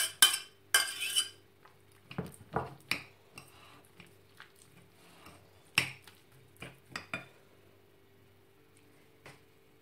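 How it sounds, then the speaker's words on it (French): A spoon stirs heated dates and honey together in a bowl, giving close, intermittent clinks and scrapes against the dish, loud at first and then sparser, with no voices. "Je vais mélanger tout ça."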